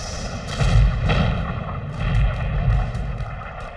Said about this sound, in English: Shells and projectiles burst everywhere about us, with a force that lifted us off our feet.